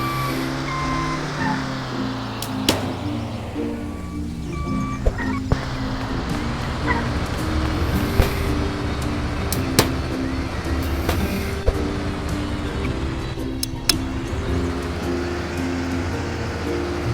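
Car driving in the Dude Theft War video game: a continuous engine drone with shifting pitch, sharp clicks and bangs scattered throughout, and repeated reversing-style beeps near the start, with no talk.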